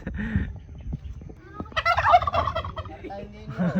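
A turkey gobbles nearby in a quick rattling burst, with other faint bird calls around it.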